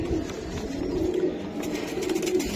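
Racer pigeons coo steadily and close by in a continuous low murmur throughout, with no talk over them.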